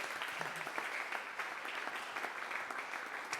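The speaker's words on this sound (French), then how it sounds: "Acclamons Jésus. Tobeti maboko" Church congregation applauding together, dense continuous clapping from many hands filling the room, close and fairly loud, with faint voices mixed in.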